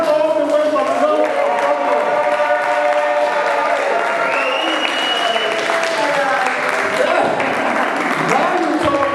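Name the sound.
audience applause for the performer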